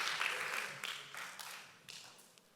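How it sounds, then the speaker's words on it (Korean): Light, brief clapping from a small audience at a church talk, soft scattered hand claps that start moderately and fade within a couple of seconds. "자, 박수."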